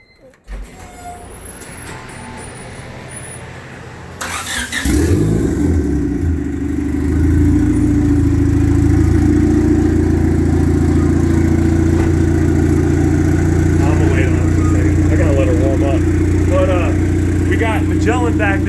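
A Honda Civic engine on a two-step launch limiter cranks, catches and settles into a loud, steady high idle with raspy revving, close by and continuous.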